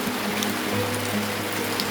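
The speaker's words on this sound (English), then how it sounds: "It's been raining since 2 a.m." Rain falling on a rainy day in Nigeria makes a steady close hiss and patter with a trickling, stream-like quality, and a low hum runs beneath it throughout.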